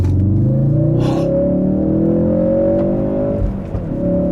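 A 2016-2018 Ford Focus RS accelerates, its engine revving up in a loud, rising drone that dips briefly near the end as the car picks up speed, with no voices.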